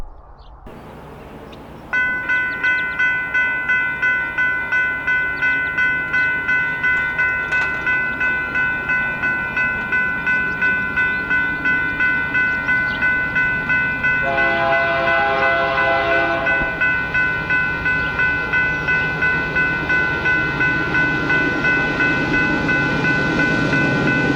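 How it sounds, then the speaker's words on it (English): A railroad crossing bell clangs in a steady rhythm for the whole stretch while a Union Pacific train horn blares loudly midway and the rumbling train draws closer. "you'll see the train peeking up and over the little hill here, and she's on her way"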